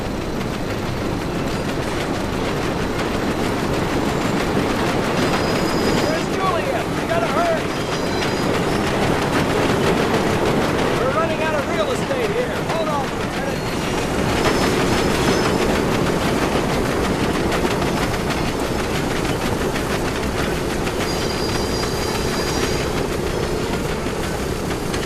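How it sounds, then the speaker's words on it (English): A train rumbles past in Medal of Honor: Above and Beyond, a loud continuous roar of rail wagons with clickety-clack wheels and faint wheel squeals holding steady for about twenty-five seconds without speech. "I can see the train up ahead!"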